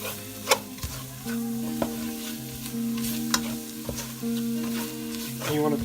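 A roux of flour and fat for crawfish etouffee cooks in a pan with a soft, continuous sizzle, while a utensil stirs and scrapes through it in irregular strokes with occasional sharper clicks, close and moderately quiet.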